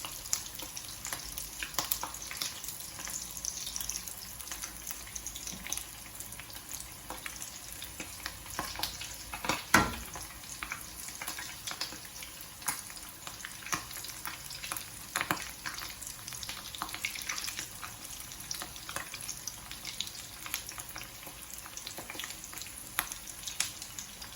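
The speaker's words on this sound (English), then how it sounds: "just let them sit, because they will eventually fry by themselves without having to move them around" Flautas de picadillo fry steadily in hot oil, a dense continuous sizzle and crackle running throughout with occasional sharper pops and a brief clunk near the middle, close and with no voices.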